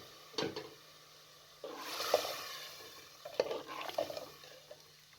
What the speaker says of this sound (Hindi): दोनों चीज़ों को अच्छे तरीके से मिक्स करके मज़ीद आप 2 से 3 मिनट तक अच्छे तरीके से इसे भून लें।